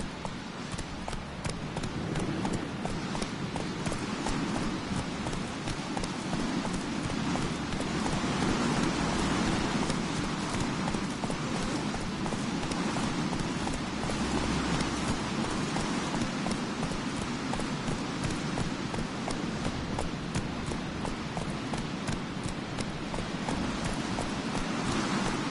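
Roach, the horse from The Witcher video game, gallops in a steady, dense patter of hoofbeats, continuous and moderately loud throughout, with what sounds like rain mixed in.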